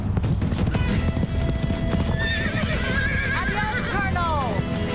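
A horse in a Western video game gallops away with rapid, loud hoofbeats as a rider takes it, and a long descending neigh rises over the clatter; speech is heard during it.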